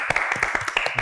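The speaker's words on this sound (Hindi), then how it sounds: "तालियां होनी चाहिए।" Short burst of scattered audience clapping, a handful of distinct claps in quick irregular succession, fairly faint.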